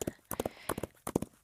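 Horse hooves galloping in the Roblox game Wild Horse Island, quick close clip-clop beats in short uneven bursts, clear and fairly quiet.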